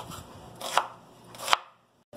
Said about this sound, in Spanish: Este lo vamos a cortar así en cubitos